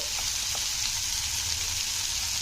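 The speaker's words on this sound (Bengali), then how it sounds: "মশলাটাকে একটু নাড়াচাড়া করে দিচ্ছি" Spice powders, chilli, turmeric and coriander, sizzle while stirred in a frying pan with oil for Bengali katla kalia fish curry, a steady close hiss with faint scraping.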